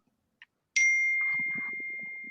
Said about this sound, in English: That was a lovely ding.